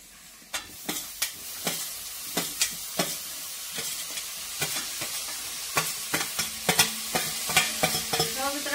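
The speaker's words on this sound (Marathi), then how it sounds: "मित्रांनो आपण आता फ्लावर बी टाकलेला आहे. त्याला आता मस्तपैकी हलवून घेऊ." Cauliflower pieces being stir-fried in a spicy masala, with a spatula scraping and tossing them in rhythmic strokes over a steady close sizzle, the strokes quickening toward the end.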